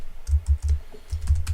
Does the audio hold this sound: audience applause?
no